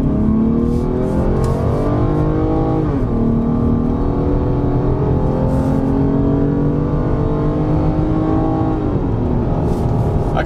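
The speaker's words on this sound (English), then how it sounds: "Okay, the engine comes on." A 2020 Ford Explorer Hybrid's engine starts up and runs while the SUV tows a trailer, a loud, steady drone with pitch rising and falling as it revs and shifts, close and continuous with no talk.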